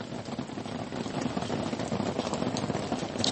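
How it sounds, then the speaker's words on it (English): Steady outdoor rain falls throughout, heard as a soft, continuous patter with no break. It stays fairly quiet and even, and no one speaks over it. "Yeah, it's raining out here. Sure, y'all can probably hear that."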